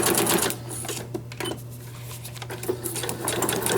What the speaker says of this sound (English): You can do different stitches depending on your sewing machine.